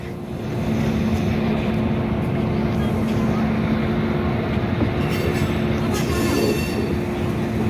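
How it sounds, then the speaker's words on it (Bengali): Kolkata–Sairang Express being shunted at platform 4 of Kolkata station: a loud, steady rumble of rolling wagons close by, with wheel squeal and a high screech near the end. "এখানে ট্রেন সল্টিং করা হচ্ছে।"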